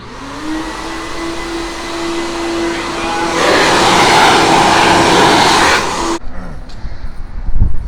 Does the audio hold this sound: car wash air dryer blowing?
yes